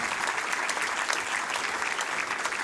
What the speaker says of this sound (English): you should give your parents a huge round of applause